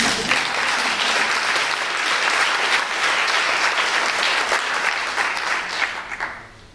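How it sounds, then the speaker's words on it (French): An audience applauds at the opening of a conference, a steady wash of dense clapping from a full room that holds for several seconds and then tapers off near the end. "je vous demanderai de vous applaudir"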